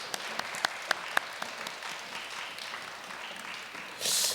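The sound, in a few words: applause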